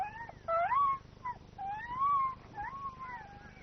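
A wolf cub howls for its mother in several thin, wavering whimpering cries that rise and fall, separated by short pauses, moderately near and fairly quiet over a low background hum.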